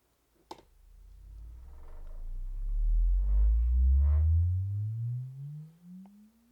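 Measurement test tones from an SVS PB16 subwoofer, heard as a single loud low sine sweep. It rises steadily in pitch over several seconds and is preceded by a short click. No voices.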